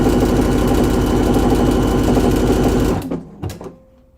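A sewing machine stitches steadily along a garment seam for about three seconds, a loud continuous mechanical whir, then slows and stops with a few faint clicks and rattles.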